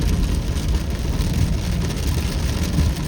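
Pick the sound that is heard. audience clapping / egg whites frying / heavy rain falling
heavy rain falling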